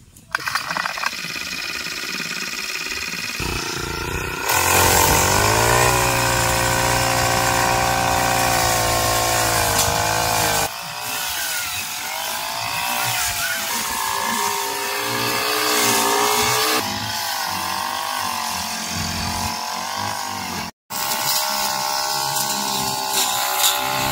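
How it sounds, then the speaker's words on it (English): A petrol grass trimmer cuts long grass along the edge of a rural driveway, its engine whining loud and close for the whole stretch, with pitch rising and falling as it bites into the growth and a brief cut-out near the end. "I'm trimming off as much as I can off the top, trying not to hit the ground too much"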